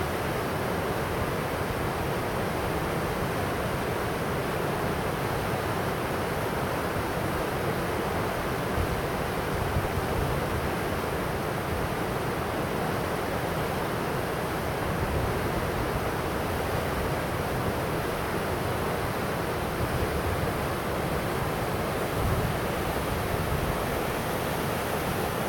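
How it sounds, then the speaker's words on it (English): Rushing water of the Menominee River through Piers Gorge between Wisconsin and Michigan, a dense, constant roar of whitewater that holds steady and loud throughout with no voices. "This is the Menominee River that divides Wisconsin and Michigan."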